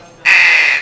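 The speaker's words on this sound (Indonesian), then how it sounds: "berisik banget nih burung" A single loud, harsh caw from a nearby crow, held for over half a second, with nothing else around it.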